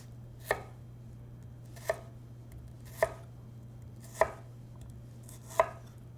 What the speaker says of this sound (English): Grip the product tightly and cut 1/4 inch in, creating 1/4 inch cubes.